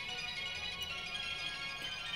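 A Sailor Moon Rainbow Moon Chalice replica toy, Blue Moon version, plays its electronic ringtone melody as the chalice opens, a bright, steady chime at moderate volume with no talking.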